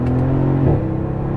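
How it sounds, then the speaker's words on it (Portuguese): A Mercedes S65 AMG twin-turbo V12 engine revs and accelerates with a steady low drone that shifts pitch partway through, close and loud, with no talking. "E você acelera e vai, ó. E o carro vai."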